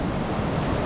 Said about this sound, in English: today the wind has died down a little bit. The waves are still quite large